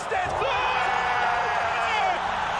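Arena crowd at a Rocket League RLCS LAN event erupting in loud, sustained cheering and screaming after a game-winning goal, a dense continuous roar with whoops throughout.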